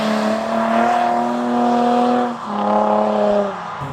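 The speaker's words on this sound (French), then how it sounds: "prendre 2-3 plans des voitures qui passent" Drifting cars roar past one after another with rising and falling engine whine, close and loud, each pass sweeping by before the next.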